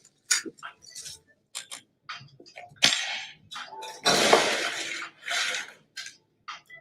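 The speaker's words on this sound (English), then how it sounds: "we're going to swizzle using a bar spoon or house spoon, and you're just going to go back and forth and have that spoon turn almost like a blender in the glass" A bar spoon swizzles a cocktail back and forth in a glass of crushed ice, giving irregular clattering, rattling bursts of ice close by, with no talking.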